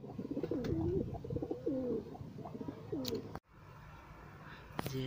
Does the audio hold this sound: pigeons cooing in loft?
yes